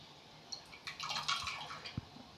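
Filtered tamarind juice poured into cooked, mashed toor dal water while making sambar: a short run of soft splashing and dripping liquid, moderately close, with a few louder drops near the end and no talk.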